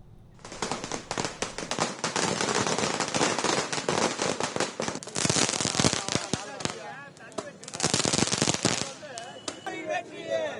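Long strings of firecrackers burst in rapid, dense crackling volleys at a street celebration in Nagercoil, Tamil Nadu, loud and close, with brief pauses and faint voices underneath.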